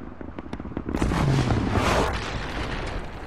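A giant mech Titan slamming down to the ground in Titanfall, a heavy booming crash that swells after a short lead-in and rumbles out over a couple of seconds.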